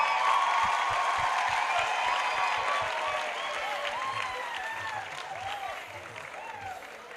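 Dense audience applause from a church youth gathering fills the space, steady many-handed clapping with faint cheering mixed in, loud throughout and easing slightly toward the end.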